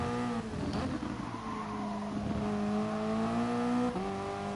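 A Toyota race car on a hot lap of the Catalunya circuit, its engine holding a steady, moderately loud drone from inside the car with a brief dip and shift in pitch near the end.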